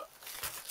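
Crinkling and rustling of a plastic bag as a rocking chair is unpacked, a short burst of close, crisp crumpling that grows busier toward the end.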